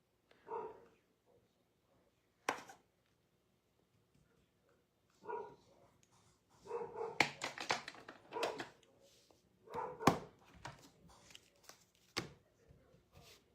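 Dog named Charlie barking from upstairs in a home, scattered sharp barks and bursts spread across the stretch, muffled and fairly faint with quiet gaps between.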